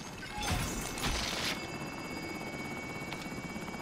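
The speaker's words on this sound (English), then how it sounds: "there's also the helicopter" A helicopter in Call of Duty: Warzone, its rotor whir droning steadily throughout, with a louder rushing burst early on and faint gunfire-like noise mixed in.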